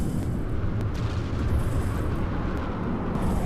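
Missiles and torpedoes pound a target in From The Depths, a dense, continuous roar of overlapping explosions and low rumbling booms with scattered sharper bursts, loud and steady throughout with no talking.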